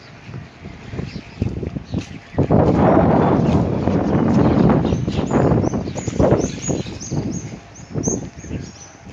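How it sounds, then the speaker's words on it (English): Cool wind blowing outdoors on an early morning in Varanasi, a steady broadband rush buffeting the microphone and swelling loud through the middle, with faint birds chirping high in the background. "cool wind is blowing here"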